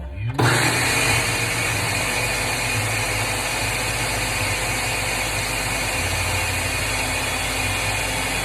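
A kitchen blender pulsing a meatball mixture with egg, starting abruptly and then grinding at a steady loud motor whine for several seconds without pause.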